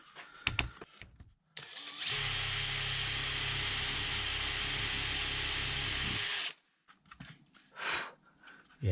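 A power drill bores into a solid oak top of an old Workmate-style portable workbench, one loud steady whine of about four seconds, with faint handling clatter before and after.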